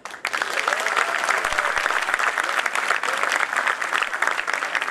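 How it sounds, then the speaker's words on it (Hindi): Loud, dense applause from the audience at a Hindi poetry gathering (kavi sammelan), starting abruptly and holding steady as a full, enthusiastic roar of clapping with some crowd noise. "एक बार जोरदार तालियां"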